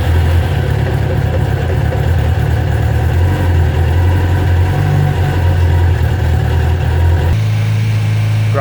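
A 1997 Suzuki Katana 600 motorcycle engine idles close by, running a little rich from a carburetor issue. It gives a steady, loud low rumble with a slight pitch wobble and then a small shift in tone near the end.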